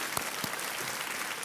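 A studio audience on a Hindi-language TV quiz show (Kaun Banega Crorepati) applauds to welcome a contestant, a steady, dense wash of clapping with a couple of sharper claps near the start, filling the short moment on its own.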